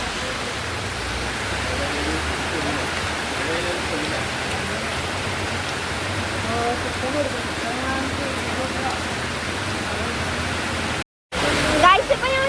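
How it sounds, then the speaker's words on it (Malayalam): Dense, continuous roar of heavy rain pouring down close by at a roadside tea stall, with voices talking over it; the sound cuts out briefly near the end. "നല്ല പെരുത്ത മഴയാണ്"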